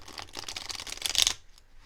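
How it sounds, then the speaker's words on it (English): Tarot cards being shuffled by hand, a quick run of soft riffling and flicking for about a second and a half, close and fairly quiet, then stopping. "I'm just going to shuffle a little bit."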